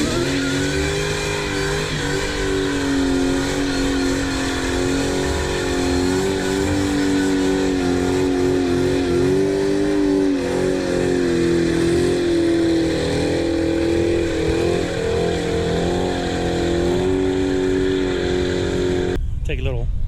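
A car engine roars and revs continuously at high volume during burnouts at a car show, with loud crowd voices mixed in throughout.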